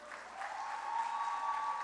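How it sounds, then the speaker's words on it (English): Wedding reception guests applaud the newly married couple, Mr. and Mrs. Xavier Joseph, with soft, steady clapping heard from a distance, mixed with a sustained tonal hum. "Let's put our hands together for Mr."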